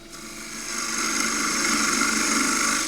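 A 3/8 spindle gouge cuts a Tasmanian blackwood bowl spinning on a lathe, a close, continuous scraping hiss that starts softly and swells to a steady, even shaving sound.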